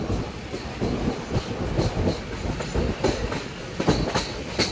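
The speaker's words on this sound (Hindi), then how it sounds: "ये फरक्का बैराज है दोस्तों, जिस पर अपनी ट्रेन चल रही है, हावड़ा कटिहार हावड़ा एक्सप्रेस" Katihar–Howrah Express train running over the Farakka Barrage, with a steady loud rolling rumble and rhythmic clickety-clack of wheels on the rail joints throughout, no voices.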